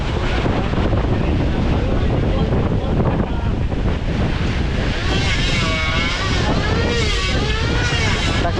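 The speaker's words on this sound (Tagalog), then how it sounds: "ang lakas ng hangin dito." Strong wind roars steadily across the microphone at a boat building site, a loud, continuous gusting rush that fills the whole clip, with faint voices now and then beneath it.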